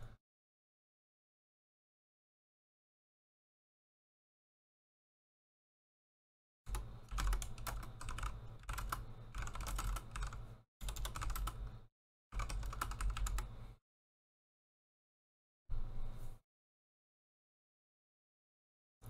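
Bursts of keystrokes clatter on a computer keyboard during a Guild Wars 2 session, several short runs separated by pauses after a long silence, close and fairly loud.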